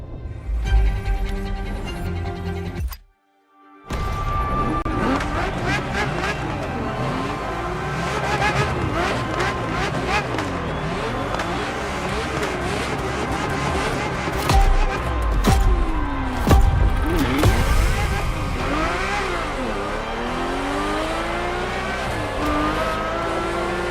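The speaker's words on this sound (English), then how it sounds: "The Ferrari F50, a bridge between road and racetrack." A Ferrari F50 supercar's engine roars loud and steady in the racing game The Crew Motorfest, the revs swelling and falling through gear changes after a brief silent gap near the start, with occasional tire squeal and no talk.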